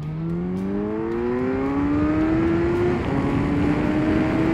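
A first-generation Suzuki Hayabusa pulls away hard from first gear, its engine note climbing steadily in pitch, then briefly dropping and climbing again at a gear change. The sound is loud, close and continuous.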